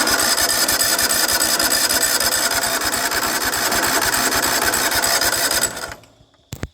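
A John Deere LT180 lawn tractor engine being cold started with the choke on: a loud, steady rapid mechanical chatter from the starter and engine for about six seconds, then it cuts out abruptly, leaving near silence and a couple of small clicks.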